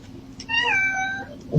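A kitten gives a single drawn-out, high meow that wavers and slides downward. It is close and clear, with nothing else over it.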